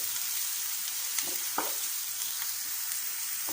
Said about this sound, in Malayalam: ഇനി നമുക്കിതൊന്ന് നന്നായി ഇളക്കി കൊടുക്കാം.